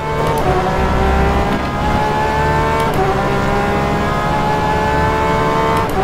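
A Porsche 911 RSR GTE race car engine at Portimao in the rFactor 2 racing sim drones loudly and continuously at high revs, with brief dips at gear changes and a steady rising whine throughout.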